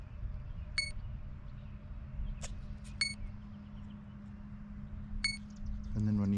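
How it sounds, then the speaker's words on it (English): A ZOHD RC plane's motor and ESC sound their arming tones outdoors, a few short high-pitched electronic beeps spaced a second or two apart over steady wind and a low hum, with a louder tone at the end. "you hear the motor go beep, beep, beep, you know, it makes its normal arming sound"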